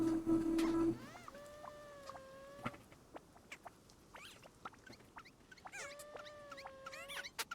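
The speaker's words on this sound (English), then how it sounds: "The bird noises." Soft chirps and whistled bird calls repeat from a bird cam, light and somewhat distant, over a quiet background hiss, with a brief burst of louder noise at the start.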